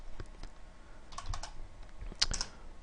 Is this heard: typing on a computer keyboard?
yes